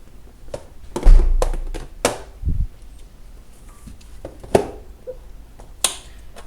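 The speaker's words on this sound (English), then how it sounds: "I'm going to cut the tofu next" Knife cutting tofu for chicken mapo tofu, a handful of close, sharp taps and soft thuds on a cutting board at irregular intervals, with quiet gaps between strokes.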